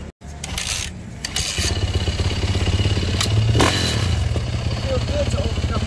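A dirt bike engine running close by with a steady buzzing idle and a brief rise in revs, under someone talking.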